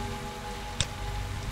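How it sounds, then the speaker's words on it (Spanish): Steady heavy rain falling in a video game, a dense even hiss of drops with a single brief knock partway through and no voices. "¡Hay demasiada lluvia!"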